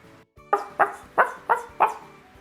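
Five sharp, evenly spaced yaps from toy dogs in a Barbie doll poolside scene, each bark loud and close with a short gap between them.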